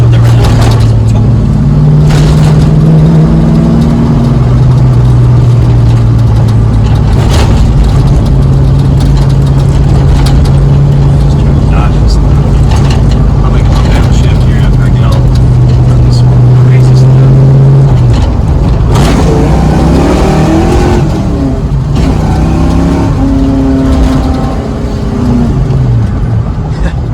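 A Ford Foxbody Mustang with a 302 V8 rumbles at a deep, steady idle, loud and close, then rises and falls in a few rev sweeps near the end.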